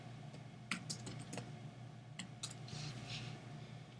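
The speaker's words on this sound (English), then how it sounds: "I'm going to just simply type in check mark" Someone types on a computer keyboard in a few quick clusters of soft, close clicks with pauses between them, set against a low steady room hum.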